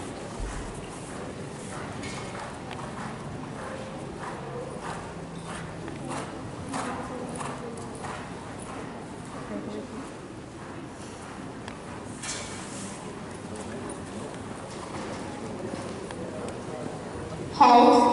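Horses canter in a riding arena, hooves clip-clopping in a loose repeating rhythm at moderate distance, while a voice talks over the sound through most of the stretch.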